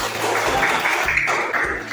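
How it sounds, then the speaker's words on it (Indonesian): Primary schoolchildren clapping their hands in a classroom, a dense round of quick overlapping claps that holds steady at moderate loudness for a couple of seconds. "Tepuk tangan dulu"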